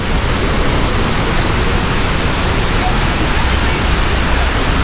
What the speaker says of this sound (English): So the waterfall is a bit loud